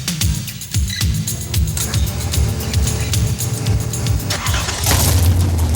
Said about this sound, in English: Carl Moyer is going to get ready to run down a quarter mile with one of the most exotic new pro-modified cars in existence today.